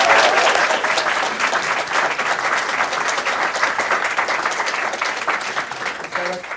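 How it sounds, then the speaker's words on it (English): Audience at an AA convention session in London applauding the speakers after a Q&A, a dense, steady wash of many hands clapping throughout, loud and close, tapering slightly near the end with a few voices underneath. "Can we have a quick round of applause for our speakers,"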